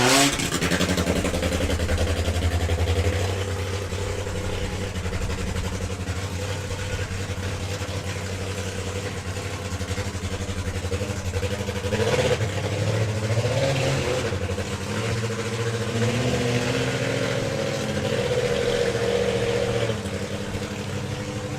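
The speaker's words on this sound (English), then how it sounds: "So as Ryan fires up the Meteor missile, the 4-cylinder top fuel bike" A four-cylinder Meteor Missile top fuel drag bike fires up at a drag racing meet, its engine roaring loud and steady with rough revving swells, held at high volume throughout.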